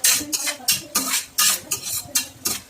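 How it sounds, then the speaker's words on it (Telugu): Onions frying in a pan for homemade noodles, stirred with a utensil that scrapes the pan in about eight rhythmic strokes over a soft, low sizzle. No one speaks. "ఒక 2 minutes గోల్డెన్ కలర్ లో వచ్చేదాకా ఫ్రై చేసుకోండి."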